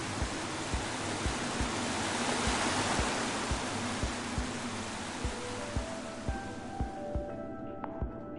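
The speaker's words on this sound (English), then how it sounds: "I first met Reuben near a waterfall like this." A waterfall in Minecraft Story Mode gives a steady rushing hiss that fades toward the end. Soft, regular thuds like footsteps pulse underneath, and no one speaks.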